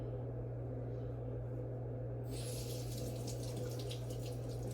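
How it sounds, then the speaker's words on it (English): Water runs from a tap during handwashing, starting partway through as a steady close rush over a constant low hum. "Wash your hands."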